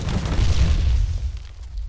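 A grenade going off in the shooter game Ring of Elysium, a loud low booming rumble that fills the moment and fades out over two seconds.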